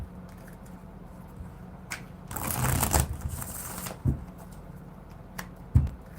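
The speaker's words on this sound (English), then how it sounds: "it's kind of hard to shuffle them a little bit" New, slippery tarot cards are riffled and shuffled at close range in a quick burst of fluttering slaps, with a few softer taps and card knocks before and after.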